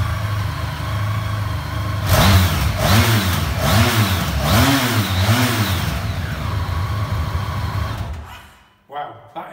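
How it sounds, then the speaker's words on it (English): Honda Crosstourer V4 touring motorcycle idling loudly nearby, blipped through a few quick revs before settling back and cutting off near the end. "Let's start her up and see how that V4 sounds."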